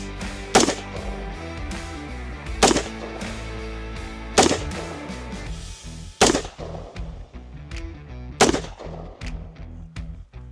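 Five 5.56 rifle shots fired at ballistic glass, each a loud, sharp crack spaced about two seconds apart, followed by ringing decay and fainter echoing impacts between the shots.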